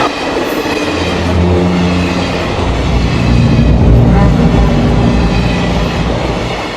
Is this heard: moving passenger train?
yes